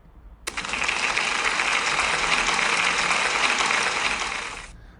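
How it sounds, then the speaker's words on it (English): Schoolchildren and staff give a pupil a round of applause at a class celebration, a dense, even patter of many hands that starts abruptly, holds steady for several seconds and then cuts off. "So can we give Hope a big round of applause, please?"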